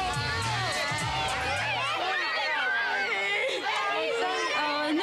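A large crowd of Spice Girls fans screams and cheers nonstop, a dense wall of high shrieking voices, with a nearby voice speaking at the start.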